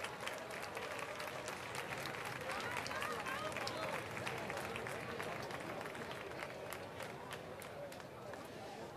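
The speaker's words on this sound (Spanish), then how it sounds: "ruego otro aplauso" Steady, dense applause fills a hall at an award ceremony in Jerez, many hands clapping continuously at moderate distance for the full stretch, with a faint murmur of crowd voices underneath.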